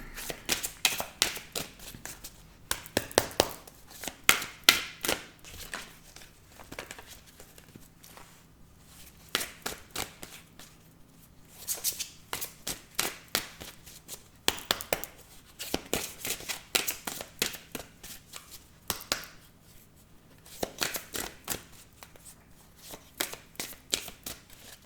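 Tarot cards shuffled and cut by hand in long runs of crisp riffling and flicking, quiet and close, with short pauses between bursts and no voices.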